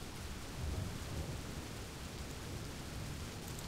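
Thunderstorm in the video game Cliff Empire, a continuous wash of heavy rain with low rolling thunder swelling near the start, steady and fairly faint with no talking.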